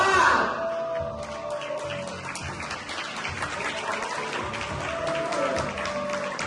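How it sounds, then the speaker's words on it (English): A crowd applauds at a crypto-currency event, with dense clapping spread over the whole stretch and steady in loudness. A few faint voices and a brief tonal sound show through. "Big applause."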